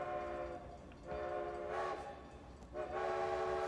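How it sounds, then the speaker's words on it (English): Two trains roll toward each other for a staged collision at a crowded festival, with repeated sustained whistle blasts rising over a steady rumbling roll, loud and close, and no talking. "the 2 trains started moving towards each other"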